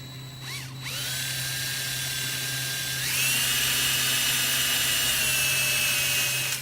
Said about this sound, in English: we're going to drill a hole